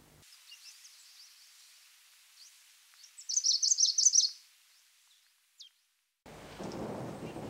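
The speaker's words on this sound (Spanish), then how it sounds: "¡Uf, qué tormenta!" A thunderstorm scene: scattered bird chirps sound over near silence, then a sudden burst of rumbling thunder and rain swells loudly at the very end. No voices.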